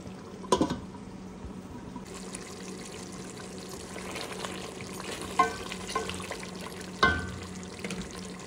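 Beef sizzling in a new pot with cabbage and a little water, occasional stirring scrapes and a couple of sharper clanks, steady frying hiss throughout, no voices.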